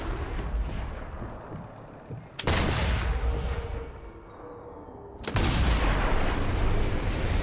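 Gunfire from the video game Sniper Elite 4: two loud, sharp sniper-style booms several seconds apart, each trailing into a long rumbling echo over faint ambient game sound.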